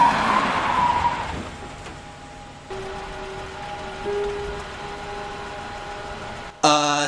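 A car skids in a film scene, a rough tire scrape fading within the first second or so, followed by steady idling hum and a sharp tonal sound at the end.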